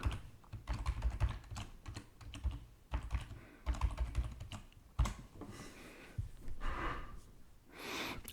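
Typing a password on a computer keyboard during an Esxi 7.0.2 install, with quick irregular bursts of close key clicks, brief pauses and a few audible breaths.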